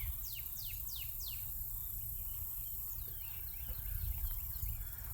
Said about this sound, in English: Little birds are singing. Sounds so pretty.